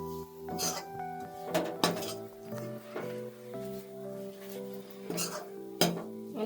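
Sesame seeds stirred in ghee in a metal pan for sesame chikki, with repeated clinks and scrapes of a spoon against the pan at an irregular pace, fairly quiet and close.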